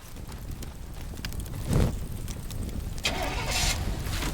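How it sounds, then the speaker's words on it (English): A truck engine in the physics sandbox game Teardown rumbles steadily throughout, with a brief heavier surge midway and a brighter, noisier stretch near the end amid scattered game sounds. "There's a truck back here."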